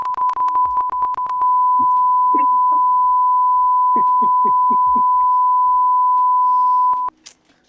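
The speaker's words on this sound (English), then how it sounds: "Yes, this is beeping." A steady electronic beep holds at one pitch for about seven seconds, loud and close, with a few brief clicks and soft sounds around it before it stops abruptly.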